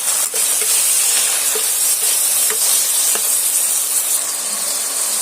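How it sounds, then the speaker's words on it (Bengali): Tomato and onion fry in a pan with a steady, close sizzle throughout, broken by a few soft stirring scrapes and taps. "আবারও আমি টমেটোটা ভাজা করে নেব পেঁয়াজের সঙ্গে"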